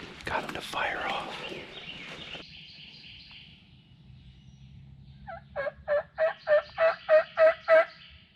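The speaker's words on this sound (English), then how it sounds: "we actually have one gobbling to our left at about 200 yards" Wild turkey on Florida public land gobbling in a rapid burst of about seven pulsing notes, preceded by a rustling, breathy stretch with a faint whispered voice.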